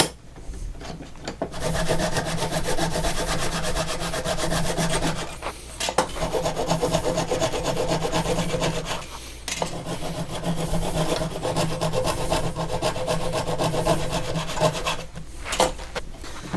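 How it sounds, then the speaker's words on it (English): Wood is being sawn and rasped by hand in a workshop while its corners are rounded, giving long, steady back-and-forth strokes that are loud and close, with a few short pauses between passes and no talking. "Now we just have to round the corners and cut this diagonal."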